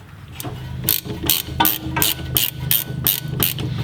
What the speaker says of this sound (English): get your bolt, attach it on the back side of the little fork area, and then tighten it down to make sure that it doesn't move